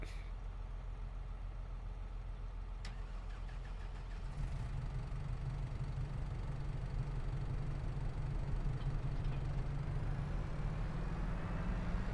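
A tractor engine idles steadily in Farming Simulator 22, a low continuous rumble that thickens and grows slightly louder partway through, with no talking over it.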